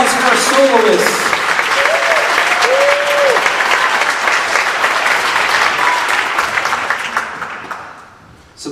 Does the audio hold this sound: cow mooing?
no